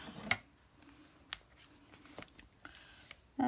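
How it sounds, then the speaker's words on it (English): Big scissors snip through paper and lace at a crafting table, giving a few sharp, isolated cuts spaced apart in an otherwise quiet room. "Get the big scissors out."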